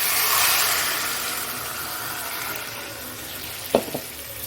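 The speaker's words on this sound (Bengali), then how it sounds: "এইবার এইখানে যে জলটা ছিল ওটাই দিয়ে দিচ্ছি" Water is poured into a hot pan of frying food, a steady sizzle hissing throughout with two brief sharp splashes near the end.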